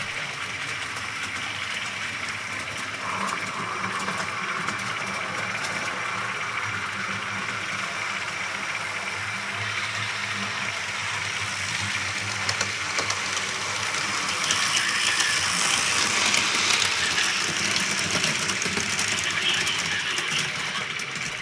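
Toy train set from a Toy Story 2 themed collection running faster around its track, a steady close mechanical whirring and clattering that grows slightly louder toward the end.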